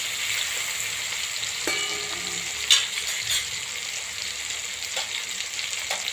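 Garlic and tomato sizzling in a pan for a cabbage, cauliflower and tomato curry, with a steady close crackle and a few sharper scraping stirs, no voices.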